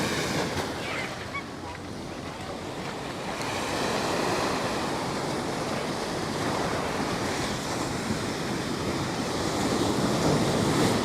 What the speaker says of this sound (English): Oh yeah, the waves is crazy today.